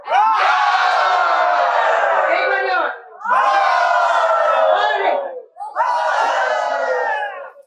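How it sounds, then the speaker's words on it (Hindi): A group gathered at a health and cultural event shouts loudly together for health: three long, sustained, full-throated group yells, each lasting a few seconds, with brief pauses between them. A voice is heard between the shouts. "जोर से कितने जोर से चिल्लाने से भी पूरी नस नाड़ियां खुल जाती है। चिल्लाओ जोर से।"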